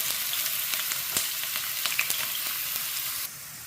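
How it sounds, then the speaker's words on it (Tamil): Onion fries in oil with a piece of cinnamon bark in a pan, a close, even sizzle dotted with small crackles that drops slightly in loudness near the end. "எண்ணெய் ஊற்றிட்டேன் ஒரு பட்டை எண்ணெய் போட்டிருக்கேன் அது கூட வெங்காயம்"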